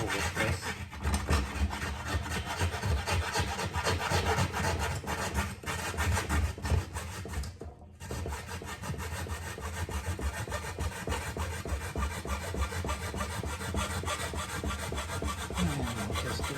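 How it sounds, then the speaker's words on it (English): A hacksaw blade saws back and forth through material on an electric kiln being converted to propane, a close, continuous rhythmic rasping with one brief pause midway and no talk. "I'm going back to my hacksaw blade, just because I feel I have a little more control with this."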